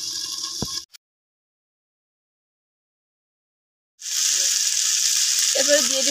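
Onion paste frying in a covered pan with garlic and ginger paste: a bright, steady sizzle in two stretches separated by a few seconds of silence.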